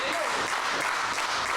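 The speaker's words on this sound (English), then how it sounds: "Crowd getting behind Thatcher here, encouraging her to hang in this match." A crowd at a SHIMMER women's wrestling match cheers and claps steadily, a dense, loud wash of applause and voices throughout.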